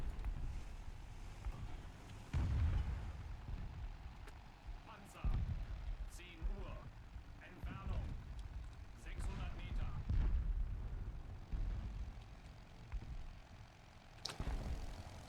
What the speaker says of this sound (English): There's something that keeps exploding there, and it's making it really obnoxious